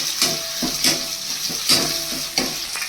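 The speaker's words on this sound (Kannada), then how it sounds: "ಈರುಳ್ಳಿ ಹಾಕ್ಕೊಂಡು ಕೂಡ ಫ್ರೈ ಮಾಡ್ಕೊತಾ ಇದ್ದೀನಿ ಕರಿಬೇವು ಕೂಡ ಹಾಕ್ಕೊಂಡಿದ್ದೀನಿ" Onions and curry leaves fry in oil for vegetable upma with a hissing sizzle, punctuated by four or five clinking spoon scrapes against the pan at a steady pace, heard up close with no speech.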